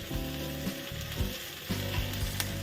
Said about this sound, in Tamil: கொஞ்சம் எடுத்து நான் வந்து பொறிக்க வச்சுருக்கேன்